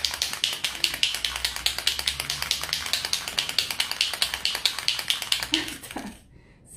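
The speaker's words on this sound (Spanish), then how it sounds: "Como todo aerosol, lo que tenemos que hacer es mover la bolilla." An aerosol spray paint can with a mixing ball is shaken hard, giving fast, regular rattling clicks up close that run for several seconds and then stop.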